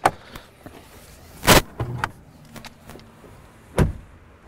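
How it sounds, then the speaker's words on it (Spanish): Clunks and a short release thunk sound as the hood of a Porsche Cayenne Turbo S e-Hybrid is unlatched and lifted, a handful of separate mechanical knocks spread over a few seconds, close by and otherwise quiet. "Vamos a abrir el capó y vamos a ver otra diferencia."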